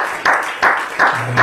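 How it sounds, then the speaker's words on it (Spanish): A church congregation claps in bursts of applause, several swelling waves of hand-clapping close by, fairly loud, with a low hum underneath. "Vamos a alabar al Señor con un aplauso"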